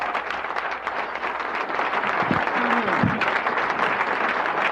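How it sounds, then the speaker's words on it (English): Sustained audience applause for comedian Milt Abel on a Los Angeles TV comedy show, a dense steady wash of clapping throughout with a brief tonal whistle or squeak near the middle. "Thank you for that applause"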